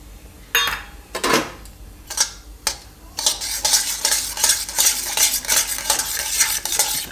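Semolina tipped into hot ghee for papaya shiro, a few separate scraping clanks of a spoon against the pan, then continuous rhythmic stirring and scraping over a soft sizzle.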